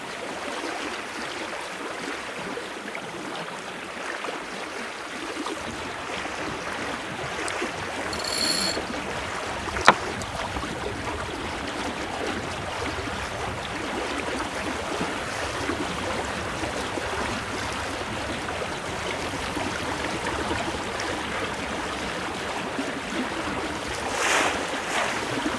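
A sailboat rides the tide at about six knots, its hull swishing through water in a steady wash with wind noise, a few light knocks and brief gusts along the way.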